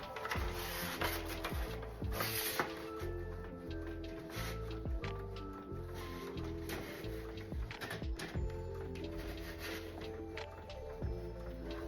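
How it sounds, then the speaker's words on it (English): A printer feeds and prints a stole, a busy mechanical whir with repeated clicks, rattles and rhythmic knocks from the rollers, close and steady throughout. "now it is printing"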